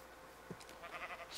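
Faint bleats from Minecraft sheep, a couple of short, quiet calls over soft game background noise, no voices.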